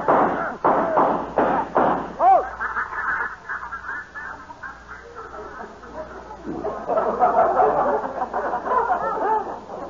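Several sharp shotgun-style blasts fired at ducks ring out as a radio drama sound effect, with bursts of chatter and commotion between and after the shots.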